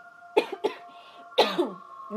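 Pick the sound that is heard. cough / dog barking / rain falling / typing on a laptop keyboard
cough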